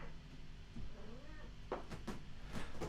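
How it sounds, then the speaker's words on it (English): A house cat meows a few short, soft times, faint and somewhat distant indoors amid quiet background noise. "I don't think the cat knows."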